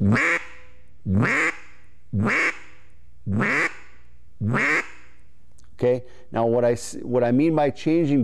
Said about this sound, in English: It's very important that you use your fingers to create the quack sound